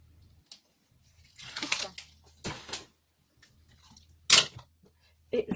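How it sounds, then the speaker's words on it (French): Adhesive tape peeled off a craft sheet in a quiet room, several short crackling rips in separate bursts with small handling noises in between. "Là, j'enlève le scotch."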